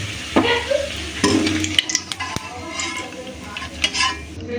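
Papad made from rice starch fries in a pan, with a close crackling sizzle and scattered sharp clinks and scrapes of a utensil against the cookware.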